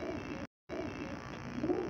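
A Teddy pigeon at a bird seller's in Lahore gives low, soft cooing over a steady background hum, close by, with one brief cut of silence partway through.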